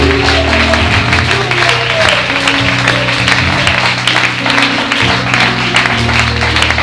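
A church congregation applauds during a worship service, steady sustained clapping that stays loud and dense throughout, blended with voices and music underneath.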